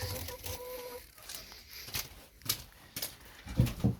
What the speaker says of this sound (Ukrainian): а тут кури ходять